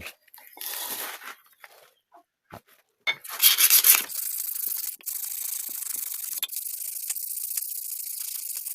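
A knife handle rubbed with worn old sandpaper: short rasping strokes at first with pauses, then a louder stretch of continuous scraping, close up.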